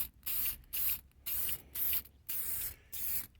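Chemical Guys Factory Finish tire shine is sprayed onto a tire from close range in six even trigger bursts, each a loud hissing spray separated by short pauses.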